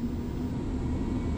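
Gulfstream G-IV jet engines on a takeoff roll, departing Montana in subzero temperatures, produce a steady, loud, continuous roaring drone with no break and no voices.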